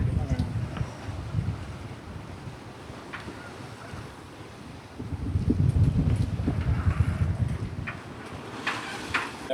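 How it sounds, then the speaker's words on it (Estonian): Wind rushing past a sailboat on open water, a steady broad roar that swells louder in gusts with faint splashing waves beneath. "Tuli tuul tagasi meile."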